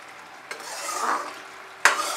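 Jaggery boils over a high flame while being stirred, with a bubbling sizzle and two sharp scraping knocks of a utensil against the pan, close up and without speech.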